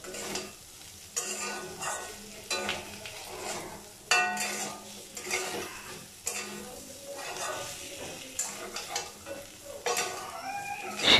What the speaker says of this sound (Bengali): অনবরত সজনে ডাঁটাগুলো নাড়াচাড়া করতে থাকব